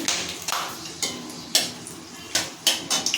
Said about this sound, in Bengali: গোটা গরম মশলা একটু নেড়ে চলে নেব